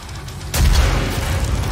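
A rocket explosion in the Doom VFR virtual reality game lands as a sudden, deep boom after a short lull, then a rumbling roar that lingers to the end.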